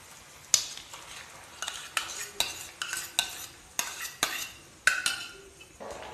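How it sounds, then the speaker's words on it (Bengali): Curd and spices stirred and fried in a pan over low flame for a Bengali pointed gourd dish, giving a soft sizzle under repeated sharp clinks and scrapes of a spoon against the pan at a steady rhythm. "দইটাকেও মশলার সঙ্গে 2 মিনিট মতন মিশিয়ে মিশিয়ে ভেজে নেব।"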